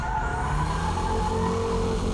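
A car executes a braking drift on a wet track, its tires squealing over a steady engine note; the sound is loud and continuous throughout, with no talking.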